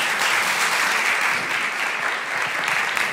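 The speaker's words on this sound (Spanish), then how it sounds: "Un aplauso, por favor." Sustained, dense applause from an audience at a post-screening talk in a cinema hall, loud and even throughout with no voices over it.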